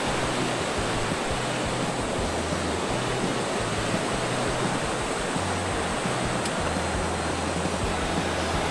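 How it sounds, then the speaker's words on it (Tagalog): A strong current of water rushes over large rocks, a loud, steady roar that stays constant throughout and never lets up, with no voices. "Ayan, umaagos yung tubig dito."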